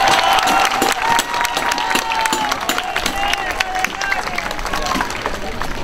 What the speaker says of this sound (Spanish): Aplausos para el vikingo.